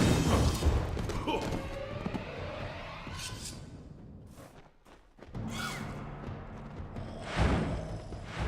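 Fiery magic explosions in the fantasy game Kingdoms of Amalur: Reckoning: several heavy booming thuds and whooshing blasts with crackling tails amid combat clatter, loud and close, under a voice speaking.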